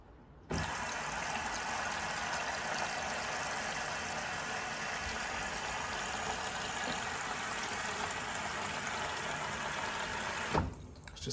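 A Fisher and Paykel washing machine flushes water through its fabric softener compartment, a steady rushing spray of water held at even loudness for about ten seconds before stopping abruptly.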